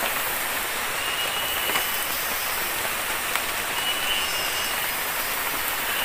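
Light rain falls steadily through a forest, a dense even hiss with occasional soft drops, continuous and without talk.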